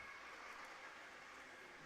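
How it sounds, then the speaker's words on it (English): A train rolls past up on a street beside a minor-league baseball stadium, a steady, distant rumbling hiss that holds evenly throughout, with no talk over it. "Count is 1-1 as the train goes by up on Long Avenue."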